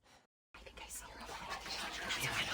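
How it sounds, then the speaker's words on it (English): Hushed, breathy whispering comes from inside the house in the game What Remains of Edith Finch, rising steadily after a brief silence into a close, airy murmur. "she heard whispering."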